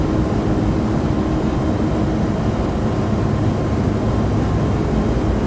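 Delta A321neo jet on its takeoff roll in X-Plane 12, a loud steady engine roar with broadband rumble, continuous and uninterrupted throughout.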